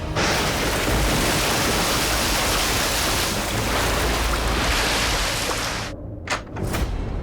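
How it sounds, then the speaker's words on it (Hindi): Heavy rain pours steadily in a Hindi television drama scene, a loud, dense hiss that fills the clip and cuts away near the end. "आज पानी बरस रहा है"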